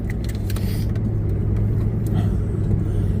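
A truck engine runs steadily with a deep, continuous low rumble and slight rises suggesting revving, close by and fairly loud, with no talk over it.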